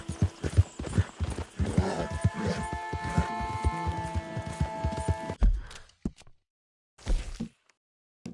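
In Red Dead Redemption 2, a horse's hooves clip-clop in a steady, close rhythm under tonal game music, then stop, leaving a few faint thuds.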